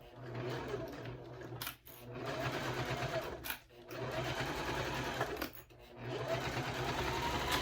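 A sewing machine stitches a Harlequin wristlet bag in rapid bursts, running steadily for stretches with three brief pauses between, close and clear.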